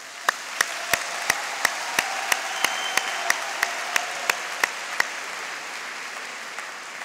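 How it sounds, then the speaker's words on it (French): Applause from the congregation at a World Youth Day homily in Krakow greets a choir, a steady dense clapping that holds for about five seconds with a few sharp individual claps standing out, then fades to quiet room tone. "qu'on peut applaudir maintenant."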